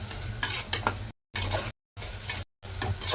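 Pulao ingredients fry in a pan as a spoon stirs and scrapes them, making close bursts of sizzle and scraping broken by short silent gaps.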